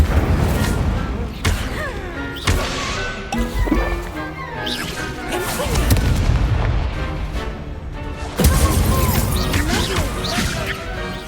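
Incendio fire spell from Hogwarts Legacy erupts in loud, rapid bursts of booming blasts and crashes, layered with other spell impacts in a hectic, continuous combat barrage.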